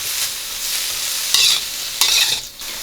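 Strips of beef stir-frying in a pan sizzle with a steady hiss, broken by two louder scraping stirs, close and with no talk.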